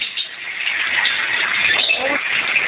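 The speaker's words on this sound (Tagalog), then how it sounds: "Daming ibon, oh." Numerous birds chirp and call together in a bright, busy chorus, fairly close and steady, with a background murmur beneath.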